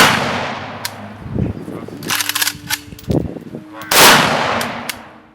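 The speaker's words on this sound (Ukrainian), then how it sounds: "Полеглих захисників шанували і військовим салютом." Sharp rifle shots of a ceremonial military volley for fallen defenders ring out at a memorial service in Kryvyi Rih, one big close blast standing out among smaller cracks, with some voices and background noise around them.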